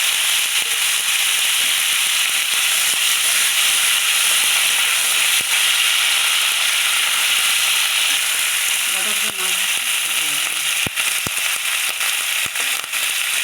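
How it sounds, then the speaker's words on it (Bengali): Cauliflower florets fry in a pan for a potato, cauliflower and duck egg curry, giving a loud, unbroken hissing sizzle close up with occasional sharp pops. "ফুলকপিগুলো ভাজছি।"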